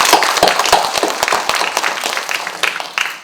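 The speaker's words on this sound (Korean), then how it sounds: "우리 박수 한번 시작하면서 세보죠." An audience at a public hearing in Tongyeong on an undersea tunnel media art theme park claps loudly and densely. The applause is close and sustained, then thins slightly toward the end.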